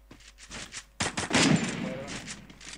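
A burst of automatic rifle fire from an M4A1-style gun in the Free Fire mobile shooter, loud rapid shots with rattling echoes after a few quieter pops at the start.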